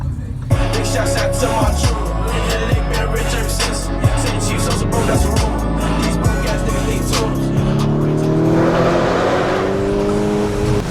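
A Lamborghini sports car is driven hard, its loud engine close and continuous as it climbs through the revs and drops at each gearshift in a repeated pattern, with a more uneven, rising drone near the end.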